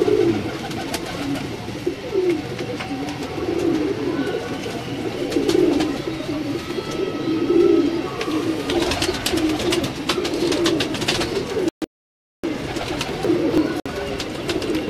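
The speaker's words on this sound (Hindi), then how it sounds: "ये उनका डबल कबूतर आपको दिखा रहे हैं।" Pigeons coo repeatedly in soft, low rolling calls, fairly close, amid a continuous background bustle.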